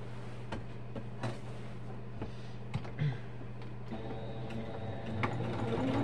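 A sewing machine stitching curtain fabric, running in a steady mechanical whir with intermittent clicks and knocks, then a slight change in pitch as it reverses to backstitch before going forward again.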